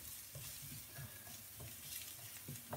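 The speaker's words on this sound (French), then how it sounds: "On fait revenir. On ne veut pas faire doré," Vegetables for a piperade sautéing gently in a pan, a soft sizzle underneath intermittent stirring scrapes and light knocks of a utensil, fairly quiet with no speech.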